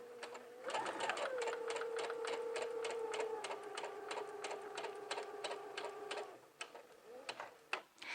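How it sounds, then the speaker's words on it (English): A sewing machine runs a seam on a maxi skirt, a rapid rhythmic clatter of stitching that carries steadily for several seconds, then slows and stops into a few scattered clicks and handling noises. "we're going to sew from where the seam is open all the way up to here where it closes"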